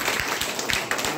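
Audience clapping at a DXN health products seminar, a dense continuous wash of many hands applauding at close range, steady and loud throughout with no talking.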